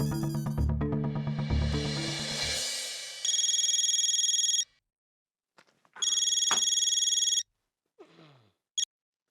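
Telephone ringing indoors after a short musical sting, two long electronic ring bursts separated by a pause, loud and close, with a faint voice briefly between them.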